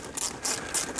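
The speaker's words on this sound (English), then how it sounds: "unscrew your hose clamp" Hose clamp being unscrewed on a C4 Corvette, quick faint ratcheting clicks in a few short bursts, close up and alone.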